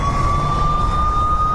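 An ambulance siren in jammed Bangalore traffic holds a close, loud, steady high tone throughout, over a low rumble of engines and road noise.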